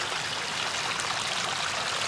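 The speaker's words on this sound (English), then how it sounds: "So there is where it enters the stream, works its way down." Water runs steadily down a small rocky stream and biofalls in a backyard koi pond, a continuous close, even splashing rush with no voices.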